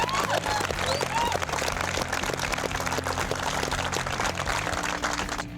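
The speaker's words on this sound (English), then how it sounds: "just give yourself a round of applause" Two drag racing teams applaud at the finale of a car-building challenge, a continuous wash of clapping and cheering over a steady background of music or hum, with no clear break throughout.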